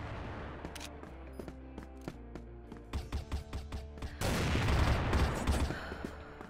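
Rapid bursts of gunfire in CrossFire crackle in uneven volleys, building into a dense, loud barrage near the end.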